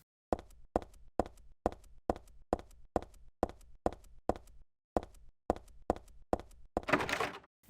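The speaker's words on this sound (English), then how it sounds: "There is literally no noise at all except for Heather's footsteps" Heather's footsteps in Silent Hill 3, a steady run of about eighteen hard, echoing steps close by in an otherwise silent space, followed by a brief burst of noisy scraping.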